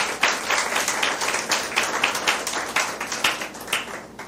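Church congregation applauding in praise at a Spanish-language service, a steady wash of many hands clapping that sustains evenly and close for several seconds, with no talk over it.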